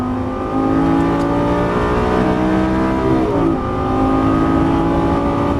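A Lamborghini Gallardo accelerates hard on a track, its engine note climbing in a loud sustained roar with a brief dip and shift midway, heard from inside the car with no speech.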